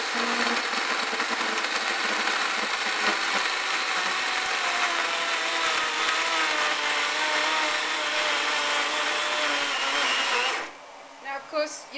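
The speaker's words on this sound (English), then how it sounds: "I'm just going to grind down some chia" A blender-type grinder whirs loudly and steadily as it grinds chia seeds with soaked, sprouted almonds, the motor running continuously for about ten seconds before cutting off to near silence.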